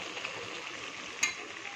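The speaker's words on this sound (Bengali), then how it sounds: "কাঁচা মশলার গন্ধটা যতক্ষণ থাকবে ততক্ষণ কষাতে হবে" Raw spices sizzle steadily in hot oil while being sautéed for a kalbaush fish curry with cumin paste. The close frying hiss is continuous, with one brief louder pop partway through.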